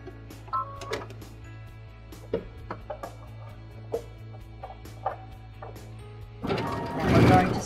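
A sewing machine fitted with a pearl and piping foot stitches piping onto fabric, giving a steady low mechanical hum with light clicks, then a louder burst of fast stitching near the end.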